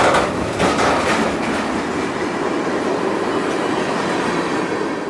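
A Norfolk Southern train rolls past in Georgia with a loud, steady rumble and rhythmic clacking of wheels on rail joints, close and continuous throughout, with a faint squeal of wheels.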